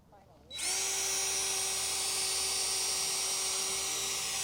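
A power drill whirs to life after a short quiet moment and holds a loud, steady high-pitched whine.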